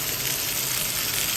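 Pork sizzles loudly on an indoor grill with barbecue sauce, a dense continuous close-up hiss and crackle that holds steady throughout, with no voices.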